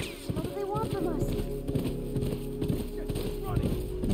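Horse hooves clip-clopping in The Last of Us as the horse is ridden, a steady rhythmic trot under a game soundtrack and someone talking over it.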